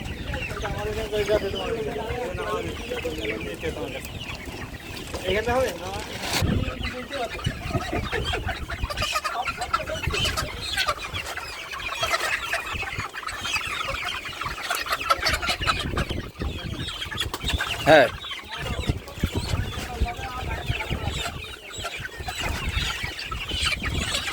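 A flock of colour-bird chickens, a batch of two or three hundred, clucks continuously on a poultry farm, with dense overlapping calls near and far and occasional louder squawks.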